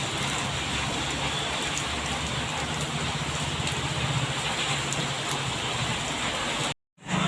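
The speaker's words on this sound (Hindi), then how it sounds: "5 सावन में अच्छी झमाझम बारिश हो रही है," Heavy monsoon rain pours down in Udaipur during Sawan as a dense, steady hiss of close drops striking surfaces. It stays constant throughout with no voices, then cuts out briefly near the end.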